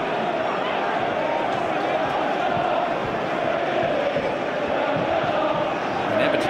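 Large football crowd of over 31,000 at St Mary's stadium during an FA Cup quarterfinal, Southampton against Portsmouth in 2010, a steady dense roar of massed voices throughout, swelling slightly near the end.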